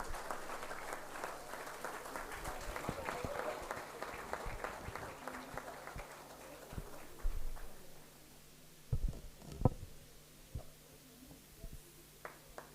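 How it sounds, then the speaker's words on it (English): Audience applause at a university award ceremony after the winning team's names are read, a dense steady wash of many hands clapping that gradually thins and trails off into scattered claps. "A big round of applause."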